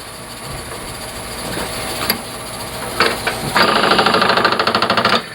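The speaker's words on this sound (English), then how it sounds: "But anyway, so let's finish drilling this." A drill bores into a wooden pepper mill blank on a lathe, starting as a low grinding hum and building into a louder rattling chatter near the end, close by and without talk.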